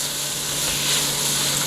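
Vegetables sautéing in a pan for pork and beans give a steady, even sizzle and hiss throughout, close and constant with no talking.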